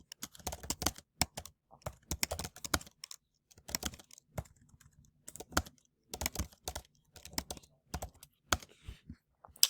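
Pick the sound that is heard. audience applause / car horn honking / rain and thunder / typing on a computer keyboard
typing on a computer keyboard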